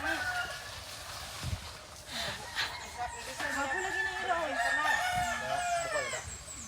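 Chickens crowing and clucking close by in the Philippines, several drawn-out rooster crows overlapping with clucks, while people talk nearby.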